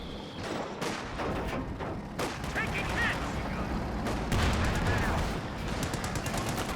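Light machine guns of paratroopers fire on the move in Company of Heroes 2 battle, with rapid sustained bursts and scattered gunshots, some distant thuds and explosions, and a commentator's voice talking faintly underneath.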